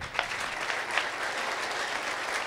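A church congregation at a prophetic service claps for the Lord, a steady, fairly quiet patter of many hands with a few sharper claps standing out.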